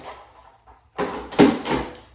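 A bathroom drawer slides and bumps shut in a couple of close, sharp knocks and rattles after a quiet moment.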